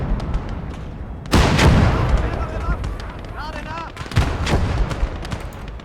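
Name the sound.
anti-aircraft gun fire and bomb explosion in video game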